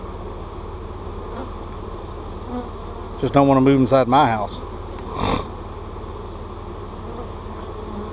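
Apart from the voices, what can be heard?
vacuumed honeybees buzzing around hive box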